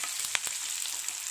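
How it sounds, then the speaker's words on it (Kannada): Whole coriander seeds fry in a pan for a Mangalore-style mackerel curry, giving a steady close hissing sizzle with a few soft stirring taps and no voices. "ಇದು ಸ್ವಲ್ಪ ಲೈಟಾಗಿ ಫ್ರೈ ಆಗಲಿ"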